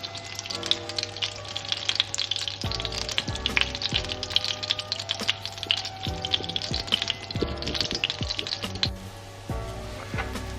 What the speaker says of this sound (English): once the pan's getting hot enough, we grab the French toast and put it in the pan